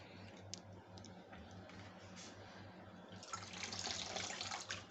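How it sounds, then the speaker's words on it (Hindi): Grated potatoes are dipped into a bowl of water and lifted out to be rinsed, producing soft, close sloshing and dripping that grows louder toward the end. "इसको 4 दफ़ा मैं इस तरह पानी में डालूँगी और निकालूँगी"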